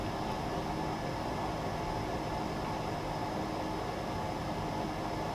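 Propeller aircraft engine run up to takeoff power, a loud, steady broadband roar and whine filling the cabin without a break, with no voices over it.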